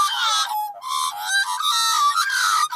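Australian magpies call in a continuous, warbling, high-pitched chorus of bubbling, gurgling notes, fairly loud and close, with no talk over them.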